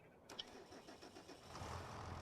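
A tractor engine cranks over and starts in Farming Simulator 25, a brief click followed by a steady mid-pitched running rumble that swells slightly louder as it settles into idle, heard close and alone.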